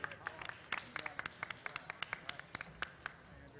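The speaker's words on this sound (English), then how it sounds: "Let's give a round of applause for Mr." Applause from a panel audience at a clean energy economy event, a scattered round of clapping with sharp irregular claps, moderately distant and fairly faint, continuing steadily throughout.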